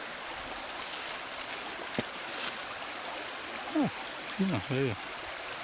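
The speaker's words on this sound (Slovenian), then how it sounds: "lepo voda teče" A clear mountain stream flows beside a footbridge on a hillside hiking path, a steady soft rushing hiss throughout, while someone briefly speaks near the end.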